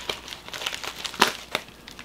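Crinkling plastic and tape crackle as a taped eBay package is pried open, with scattered sharp rustles and one louder tearing crunch midway.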